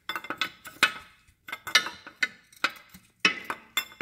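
Wrench clicking in rapid metallic ticks while loosening the ball joint nut on a VW Jetta/Golf Mk4 front knuckle, bursts of sharp ratcheting clinks separated by short pauses, close and clear.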